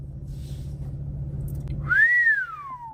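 A man whistles one clear rising-then-falling note that swoops up and slowly glides down, heard over a low background rumble that drops away as the whistle begins.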